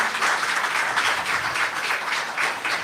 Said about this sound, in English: Please don't stop clapping until she takes her seat